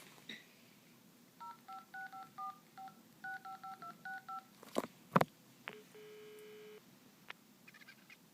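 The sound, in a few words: telephone number being dialed, DTMF tones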